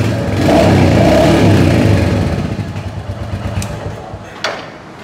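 A used 2021 Royal Enfield Bullet motorcycle in good condition, with a J-series engine, runs close by: a loud, thumping engine for about two seconds, then a quieter, steadier idle.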